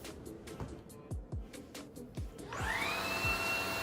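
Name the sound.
Maircle S3-Pro cordless stick vacuum with electric floor brush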